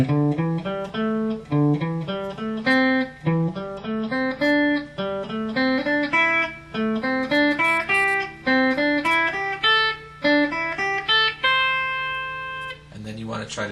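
Guitar playing a scale pattern that climbs five notes and steps back four, repeated at an even rhythm as separate plucked notes rising and falling, moderately quiet and without talk.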